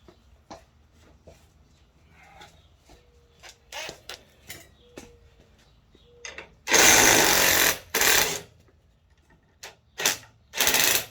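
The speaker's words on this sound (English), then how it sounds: "We're going to hit that with the impact actually." An impact wrench works on a bolt of a Cub Cadet Z Force S 48 mower deck during a rebuild, firing in several loud, short hammering bursts after a stretch of quiet clicks and handling noise.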